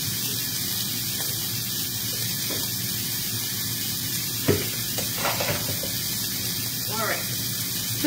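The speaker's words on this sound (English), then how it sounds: "pull out our potatoes. We're going to go ahead and get these drained" Partly cooked potatoes drained in a kitchen, with a steady hiss of running or splashing water and a few clunks and knocks of a pot or colander close by; a voice speaks briefly.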